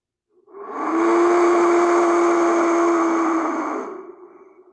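A wind whistle blown with one long breath gives a single steady, breathy, hooting tone that swells in, holds loud and close for about three seconds, then fades away.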